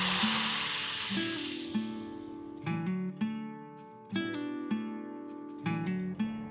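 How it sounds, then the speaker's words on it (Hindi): A sharp burst of hissing sizzle as water hits a hot pan of frying chickpeas, fading over a couple of seconds while light music plays. "अब इसमें हम पानी ऐड करेंगे।"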